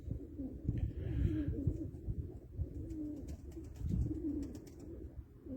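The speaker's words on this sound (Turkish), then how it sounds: "işte yeni kuşlarımız var" Pigeons coo in a loft of newly arrived birds, with low, rolling calls repeating close by and some faint rustling.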